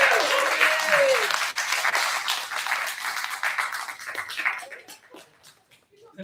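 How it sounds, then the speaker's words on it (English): Audience at a live comedy show in Seattle applauding the hosts, a broad wash of clapping that swells early, then thins and fades toward the end as scattered claps trail off. "Let's give them a round of applause."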